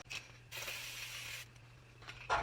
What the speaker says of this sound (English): let's also spray our face